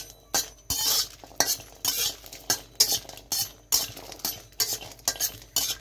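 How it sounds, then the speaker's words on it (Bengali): Chili and garlic being fried together in a pan, heard as a brisk, rhythmic series of loud metal spatula scrapes and clinks over a light sizzle, close up and with no talking. "মরিচ আর রসুন একসঙ্গে হচ্ছে টেলে নিচ্ছি"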